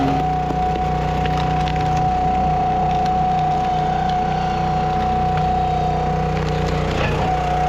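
Chunks of dead treetop wood are tossed onto a trailer, knocking and clattering irregularly over the steady drone of a nearby idling engine.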